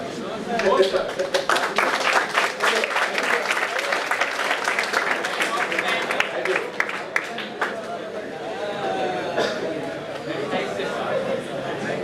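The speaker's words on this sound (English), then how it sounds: "Before you clap, any questions?" Students in a classroom clap after a data structures lecture, a moderately loud round of applause mixed with chatter that thins gradually as voices take over.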